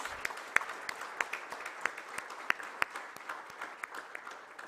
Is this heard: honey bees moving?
no